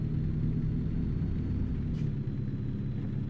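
A truck with an Allison 4500 RDS transmission driving in American Truck Simulator, giving off a steady low engine rumble that holds even and continuous throughout, with no talking.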